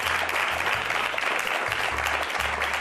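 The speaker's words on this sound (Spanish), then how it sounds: "Un aplauso para Fernando, que está llevando con mucha dignidad." An audience applauds a contestant on a game show, a steady wash of clapping over a low rhythmic hum in the background.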